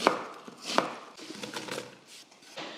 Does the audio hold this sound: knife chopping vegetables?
yes